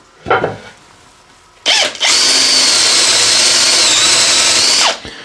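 A power drill with a brad point bit bores a hole, starting with a short burst, then a sustained loud, steady whine for about three seconds before it cuts off.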